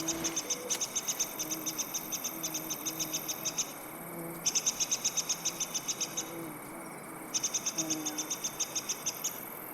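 A bird calls at night: high, rapid pulsed trills repeat in three steady trains with brief gaps between them, sounding fairly close over a constant hiss of night ambience.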